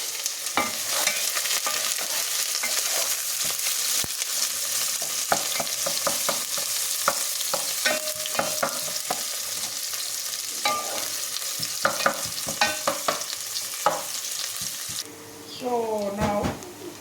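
Onions frying in a pan, heard as a steady loud sizzle for the whole stretch, with scraping from repeated stirring and a voice speaking briefly near the end.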